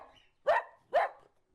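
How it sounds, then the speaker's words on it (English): Three sharp dog barks spaced evenly about half a second apart, clear and fairly close with silence between them. "Dog."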